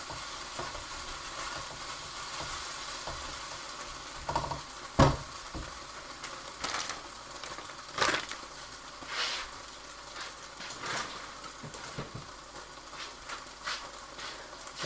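A prawn noodle stir fry in a wok over low-medium heat gives a faint steady sizzle, punctuated by irregular scraping and clinking stirs.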